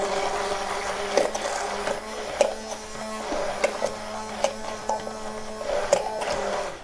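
Stick blender whirring steadily as oil is gradually poured in to emulsify a creamy, mayonnaise-like sauce for panisse, a close continuous motor hum with brief louder bumps and clatters throughout.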